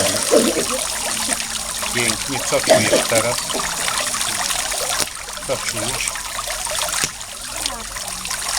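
Water trickles and pours into a glass during a water-element hypnosis exercise, a steady splashing stream running beneath continuous close talking.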